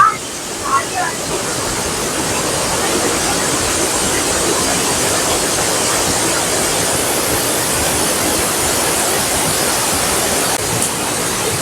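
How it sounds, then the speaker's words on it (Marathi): The Thoseghar waterfall in Maharashtra roars steadily, a loud broadband rush of falling water that stays constant and close throughout. "ठोसेघर येथे 2 धबधबे आहेत, एक छोटा आणि एक मोठा."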